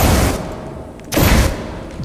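Gunfire in Far Cry 4 when trying out a flamethrower, two loud bursts of roaring, blasting sound each lasting a fraction of a second, close up with no talk.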